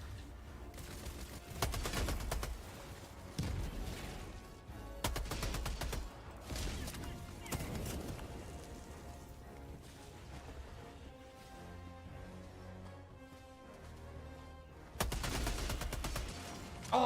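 Repeated bursts of automatic gunfire in a shooter video game, loud and close, with dense rapid volleys separated by quieter stretches of background game noise and music.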